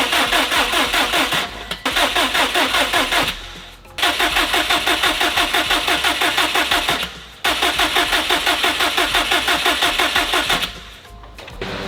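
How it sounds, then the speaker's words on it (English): A rebuilt Subaru WRX engine cranks in repeated rhythmic bursts, with several pauses between attempts, loud and close, and catches briefly without settling into a steady idle. "we'll just start it and hope it doesn't blow up"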